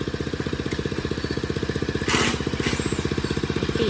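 A Kubota CT35 walking tractor engine runs steadily at low throttle, a close, even rapid chugging pulse throughout, with a brief louder burst of higher noise midway.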